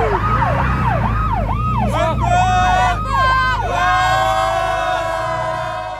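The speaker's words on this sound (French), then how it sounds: "J'avais rajouté des lumières et une sirène." A police-style siren fitted to a Ferrari wails loudly and up close, first in rapid swooping yelps and then in longer sweeping tones, ringing steadily throughout.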